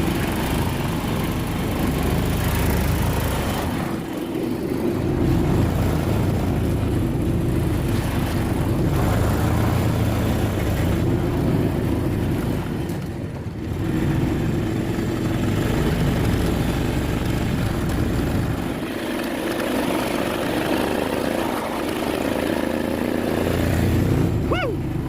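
A Duromax 440cc Kawasaki Mule utility vehicle driving around on a frozen lake, its engine droning loudly and continuously up close with rising and falling revs.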